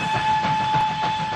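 Train engine rumble with a sustained horn tone at a station, heard briefly and moderately loud at close range.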